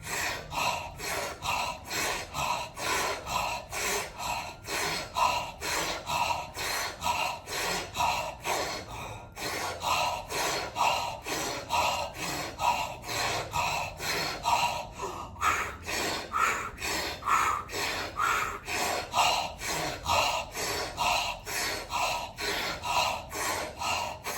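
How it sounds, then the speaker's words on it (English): Fast, rhythmic, forceful breathing during a somatic breathing exercise, sharp in-and-out breaths repeating at a steady pace with brief pauses, close and alone. "Let's do 20 more breaths."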